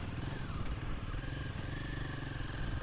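A Royal Enfield Himalayan 450 motorcycle rolls down an off-road descent, its engine a steady low rumble with light mechanical clatter throughout, close and continuous with no talk.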